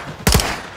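A short burst of gunfire in a Call of Duty game: two or three rapid, sharp, close shots fired in quick succession, ringing briefly after the final shot.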